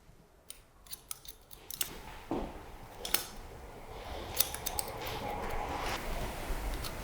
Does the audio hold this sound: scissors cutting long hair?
yes